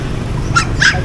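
A Pomeranian puppy gives two short, high yips close by in a noisy pet market, with no talk over them.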